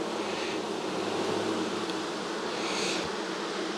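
Honey bees humming steadily at an open hive whose colony is agitated and killing its queens, a dense continuous buzz close by with no talk.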